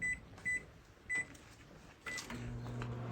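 A microwave oven runs with a steady low hum, with several loud beeps near the start and the door shutting before the motor and turntable drone settles in, close and alone with no talking.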